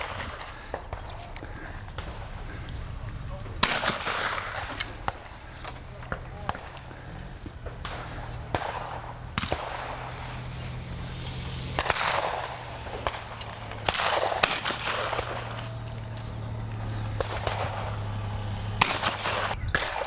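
Shotgun shots fire at sporting clays targets at the English championship, a few sharp, loud bangs spread across the stretch under ongoing commentary and outdoor background noise.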